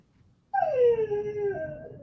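A dog lets out a single close, drawn-out howl that slides downward into a whimpering whine, after a brief quiet start.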